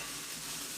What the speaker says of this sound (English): here's where we get our sausage crumbled up